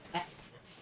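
A dog gives a brief single whimper, close and fairly faint, in a dusty warehouse setting with low background noise.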